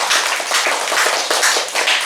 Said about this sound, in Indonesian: Mari kita tepuk tangan untuk beliau dan mereka-mereka ini.